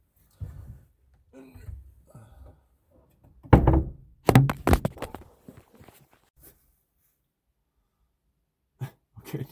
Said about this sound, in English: Let's see if I close the door here.